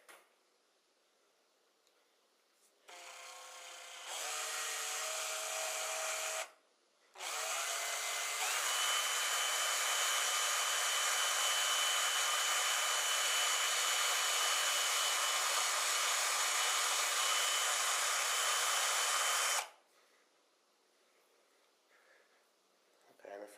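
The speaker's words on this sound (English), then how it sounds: "I'm a lot more comfortable drilling this way." A power drill whines steadily for several seconds after a couple of short bursts, loud and close, drilling into a guitar neck, then stops.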